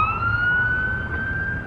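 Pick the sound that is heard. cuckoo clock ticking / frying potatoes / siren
siren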